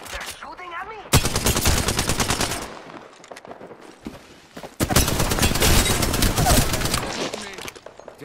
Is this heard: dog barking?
no